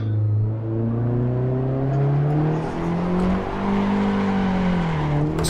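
A race car engine in the Assetto Corsa racing game drones loudly and continuously, its pitch rising and falling as the car revs and spins out, with faint tire noise at the end.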